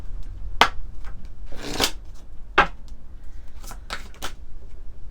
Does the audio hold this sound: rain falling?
no